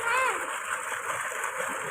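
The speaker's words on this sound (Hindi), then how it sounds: "अब दोबारा से ये पानी फुल पानी की रफ्तार जो है ना तेज़ हो गया दोबारा" Water rushes steadily from a solar-powered tube well pump, a close, continuous splashing gush with a voice audible over it.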